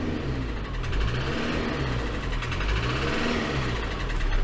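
A Ford Transit van engine runs with a steady, loud mechanical knock and rattling vibration at close range, a continuous idling drone with no talking.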